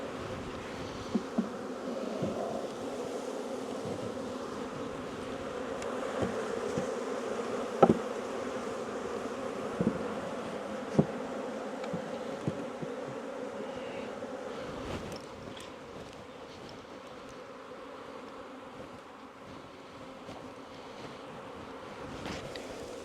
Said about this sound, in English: There you go, bees. Go down in there.